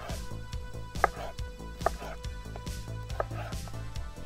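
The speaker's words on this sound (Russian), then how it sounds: "Нарезать будем тонкой соломкой" A knife taps a cutting board in quick, regular strokes while vegetables such as pepper are sliced into thin julienne strips for a warm chicken salad, with faint tonal background sound underneath.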